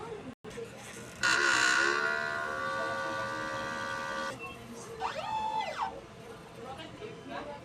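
A DTF printer runs a head cleaning cycle, giving a sustained mechanical whine with tonal hum, then a stop and several short rising and falling motor sweeps from the print head, with faint talk in the background.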